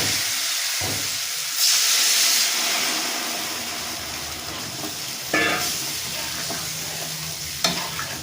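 Water poured into spice paste frying in a pan for a katla fish curry, setting off a loud steady sizzle and steamy hiss with a few sharp bursts of spitting, close and alone with no talk.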